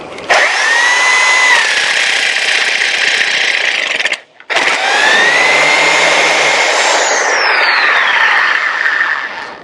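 Power tool whirring as it runs a wheel nut down onto a cleaned stud, two loud close bursts separated by a brief pause, the second shifting in pitch as the nut bottoms out.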